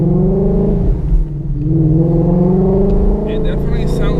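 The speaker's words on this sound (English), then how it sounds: "It definitely sounds different than a regular V8." A flat-plane crank V8 car engine revs and climbs in pitch with a smooth, sweet rising note, loud and close, while people talk over it.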